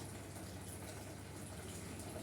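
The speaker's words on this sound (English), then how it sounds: "Plugging it in, and letting the motor take water out." Electric pump motor drawing water out of an aquarium during a water change, a steady, even gushing and humming flow that holds at one level throughout with no voices.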